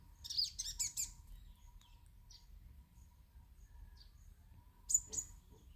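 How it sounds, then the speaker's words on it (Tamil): A little sparrow gives a few faint, high, quick chirps at the start and again near the end, with quiet background between. "ஒரு குருவி இருக்குது பாருங்கள் குட்டி குருவி"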